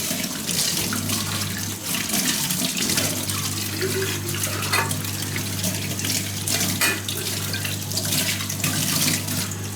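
Tap water runs loudly and steadily over a freshly cleaned kettle and its lid in a sink, a continuous close splashing rush with shifting spatter as the pieces are rinsed.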